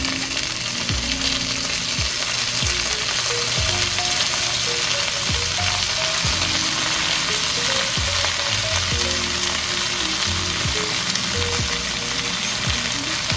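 Chicken pieces for cheesy chicken adobo sizzle steadily in a pan, a dense continuous frying hiss with occasional soft clinks of a utensil, fairly close and loud with no talking.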